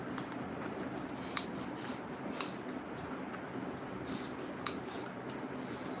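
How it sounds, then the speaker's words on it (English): Scissors snip through Ankara fabric while bag pieces are cut out, giving soft, scattered cuts with a few sharper clicks against a quiet room. "So now I'll start cutting out now."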